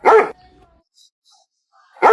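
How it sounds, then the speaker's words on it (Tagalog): A dog barks twice, loud and close: one sharp bark at the start and another at the end, with near silence between. "Tara siyang aso na kumakahol."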